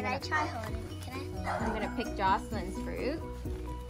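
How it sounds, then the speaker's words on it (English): A neighbor's dog barks repeatedly nearby, sharp yips and barks in quick succession, during guava picking in a backyard as people talk over it. "This dog's barking at us."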